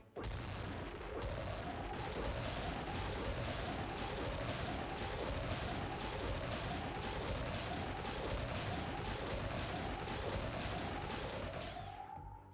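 Aircraft weapons fire in rapid, sustained volleys during air combat in Xenonauts 2, a dense, loud rattle of repeated shots with rising whooshing sweeps running steadily for about twelve seconds.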